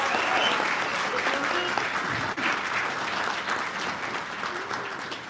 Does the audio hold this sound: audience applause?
yes